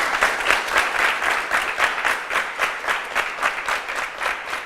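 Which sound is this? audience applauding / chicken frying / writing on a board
audience applauding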